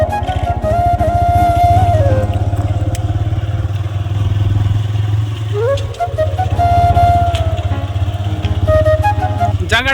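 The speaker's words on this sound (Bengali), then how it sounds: "তা চলো বাইকটা স্টার্ট করো।" A motorcycle rides along a rough, bumpy road, its steady, loud engine drone running throughout with brief pitch shifts and a rattling clatter from the uneven surface.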